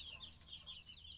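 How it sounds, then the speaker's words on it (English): A small baby chicken inside a cottage gives soft, faint clucks and chirps in a brief, quiet burst with no talking. "this is a small chicken, small baby chicken inside a cottage"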